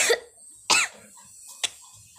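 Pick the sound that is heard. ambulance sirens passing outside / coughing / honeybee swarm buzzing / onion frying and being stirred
coughing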